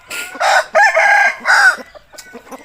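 A rooster crows loudly and close by, a long harsh call in several rising and falling phrases.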